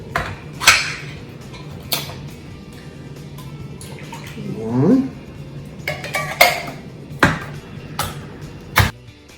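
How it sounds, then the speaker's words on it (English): Metal cans of peaches being opened beside a 5-quart 10-inch Dutch oven, with sharp clinks, scrapes and clatters of metal and cutlery spaced through the clip, plus a brief wet squelch in the middle. "we're going to be opening the cans"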